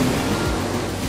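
Water waves churning on the Hudson River in The Crew 2, a steady broadband wash of surf with low rumble, continuous and fairly loud, with no voices.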